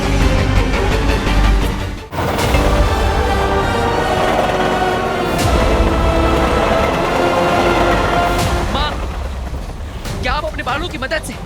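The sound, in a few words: train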